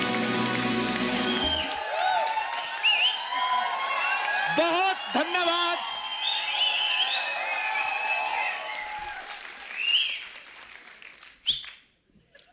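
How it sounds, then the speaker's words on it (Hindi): Loud, dense applause from a studio audience at a comedy talk show fills most of the stretch, with a host speaking over it and the clapping fading near the end. "जोरदार तालियां।"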